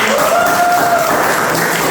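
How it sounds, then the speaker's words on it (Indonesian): A brief burst of steady audience applause in a university music lecture hall, loud and even throughout, with a faint tone sounding briefly beneath it. "tepuk tangan dulu buat"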